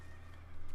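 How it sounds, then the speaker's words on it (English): A faint horse clip-clop and snort in the video game Metal Gear Solid 3, over a steady low hum, brief and distant-sounding. "Dude, I heard a horse."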